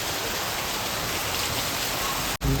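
Heavy rain pours down in a dense, steady hiss, loud and close, cutting off abruptly near the end.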